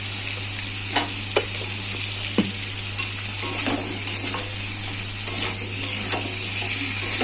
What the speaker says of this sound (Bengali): নুন আর হলুদ দিয়ে ভালো করে আলুটাকে আমি ভেজে নেবো, আলু আর পেঁয়াজটা